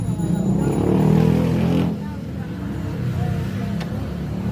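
A Honda 155 motorcycle engine runs steadily after a lost-compression repair, a loud, close, continuous hum that dips slightly in level partway through, with people talking over it.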